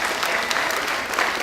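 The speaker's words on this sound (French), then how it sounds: "On applaudit." A crowd applauds steadily at a charity show staged by a hospital for Les Restos du Coeur, a dense, even wash of clapping with no voices over it.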